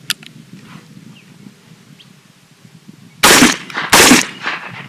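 A Cimarron double-barrel shotgun fires two loud, close shots less than a second apart, cutting through quiet outdoor background noise.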